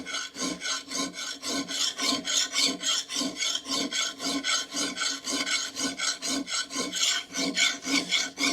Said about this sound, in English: a coarse file like this leaves lines in the metal